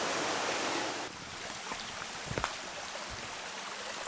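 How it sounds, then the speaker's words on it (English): Whitelady waterfall at Lydford Gorge pours in a steady broadband rush of falling water, loud and close at first, then slightly softer and continuous, with a few faint knocks and footstep-like sounds. "Whitelady waterfall, I believe it's called."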